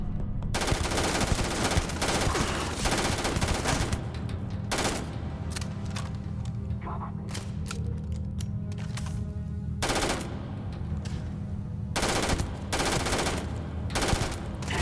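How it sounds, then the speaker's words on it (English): Rapid automatic gunfire and repeated shots ring out in the sci-fi space shooter Starfield, fired in sustained bursts with brief pauses between them during a firefight inside a space station. "Hold still while I'm shooting at you."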